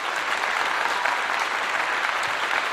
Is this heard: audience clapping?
yes